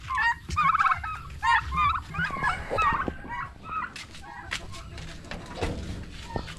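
Close turkey gobbles sound in quick bursts, partly overlapped by people talking nearby against a busy outdoor background.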